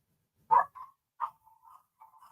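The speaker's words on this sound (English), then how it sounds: "these dogs. Hey, stop it." A few faint dog barks and short yips, one sharper bark followed by softer trailing whines, heard at a distance in an otherwise quiet room.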